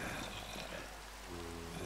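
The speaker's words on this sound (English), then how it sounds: "Oh, it's raining. That's a noise. I hate that noise." Rain falls in Minecraft as a dense, even hiss of drops pattering on surfaces, loud and continuous throughout the short moment, with no voices over it.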